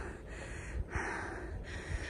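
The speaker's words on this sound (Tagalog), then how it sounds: "Sana wag po kayo ma-distract sa hingal ko." Heavy panting from a person out of breath after riding a bicycle, with a few quiet gasps and snorting breaths, close and faint, with no talking.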